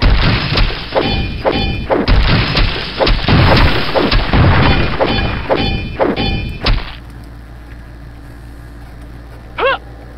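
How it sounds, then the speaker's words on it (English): Explosions in the HeXen II video game, a rapid series of heavy booms and thuds that ends abruptly, then near-silence with a faint brief sound effect. "I heard something blow up when they shot this thing instead of me"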